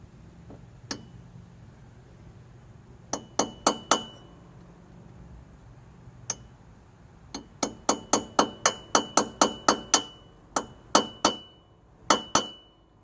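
Sharp metallic clinks of a hammer striking a punch against a valve guide in a Kohler Courage engine head, a few scattered blows and then a steady run of evenly spaced strikes, close and distinct with no talking.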